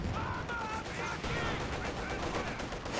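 Light machine guns from a dual-equipped LMG penal squad in Company of Heroes 2, rattling in dense continuous bursts amid a busy battlefield mix for the full stretch, fairly faint overall.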